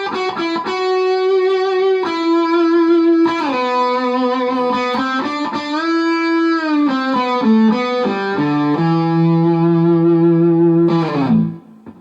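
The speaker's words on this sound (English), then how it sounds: "it's nice to develop a really sweet vibrato sound" Distorted electric guitar playing sustained notes with wavering vibrato, moving through several pitches, loud and up close, with no talking.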